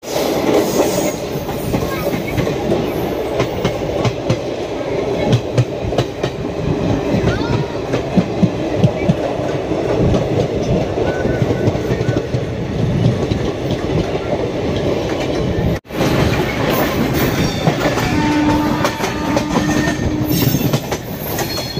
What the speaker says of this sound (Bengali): ট্রেনের কোনো সাইনবোর্ড নাই, শুধু ট্রেন যাচ্ছে।